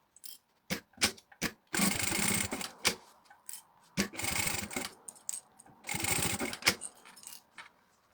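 A sewing machine stitching two fabric pieces together, heard as three bursts of rapid close mechanical whirring broken by sharp clicks and handling knocks between runs, with no talk.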